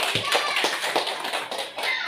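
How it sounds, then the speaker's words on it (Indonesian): A small audience at a teacher's presentation claps their hands, with scattered, uneven claps close by that overlap for about two seconds and carry no speech. "Boleh tepuk tangan dulu?"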